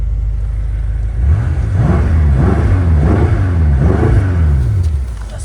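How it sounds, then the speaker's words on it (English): A 2015 BMW M5 F10 with its V8 revved up three times in quick succession, each rise and fall of the engine note loud and close through the exhaust, with no talking. "Give it a little rev for you."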